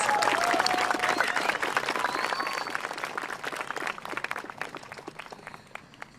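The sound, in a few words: audience applause at graduation ceremony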